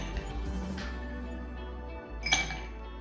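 Glass clinks while mint lemonade is served, with a soft chime early on and a brighter, louder clink near the end over a steady low hum.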